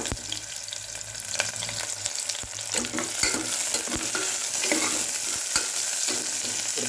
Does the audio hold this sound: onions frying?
yes